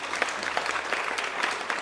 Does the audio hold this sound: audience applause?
yes